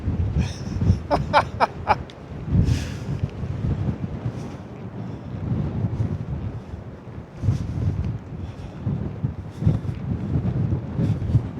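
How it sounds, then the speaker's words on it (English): Strong wind buffets the microphone in loud, rumbling gusts on the Bridge of the Gods across the Columbia River into Washington, with a few brief clicks early on and no talking. "Oh, wow, that's windy."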